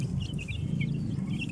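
Young chickens, bought as one- or two-day-old chicks and kept in a rooftop garden, cheep and cluck softly and continuously at close range, no talk.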